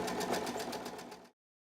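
A sewing machine stitches fabric strips together for a mug rug, its fast, even mechanical chatter running steadily up close for just over a second before stopping abruptly.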